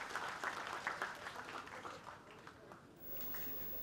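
An audience applauding athletes at a combat sports tournament, a faint, scattered patter of clapping that gradually thins out over a few seconds, heard from a distance.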